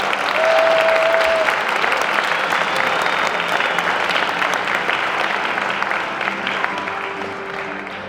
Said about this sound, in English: give another round of applause for German Food, Gifts, and More